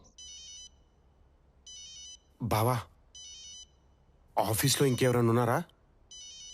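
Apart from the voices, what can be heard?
mobile phone ringtone ringing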